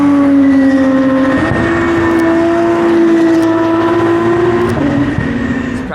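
Formula 2 race cars pass on a circuit during practice, a loud sustained engine whine with steady pitch and brief shifts as cars go by close, with no talking.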